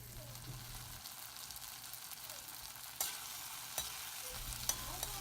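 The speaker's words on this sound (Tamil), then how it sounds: "ஆட் பண்ணிவிட்டு அதையும் நல்லா சாஃப்ட் ஆகிற வரை வதக்கணும்." Tomatoes sizzle quietly as they sauté in a pan, with a few sharp clacks of a spoon stirring against the metal.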